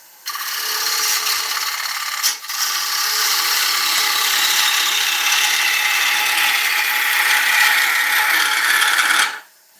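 A wood gouge cuts an oak bowl turning on a lathe, giving a steady, loud scraping hiss that runs almost without a break for nine seconds, with one short dip near the start.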